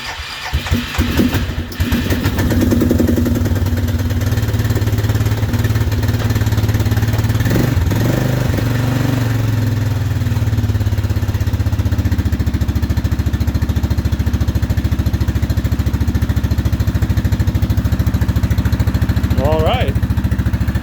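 A 1999 Suzuki Quadrunner 500 4x4 ATV engine, cold and long unused with a freshly cleaned carburetor, cranks briefly, catches and settles into a loud, steady close-up running drone with some revving, while a person talks over it.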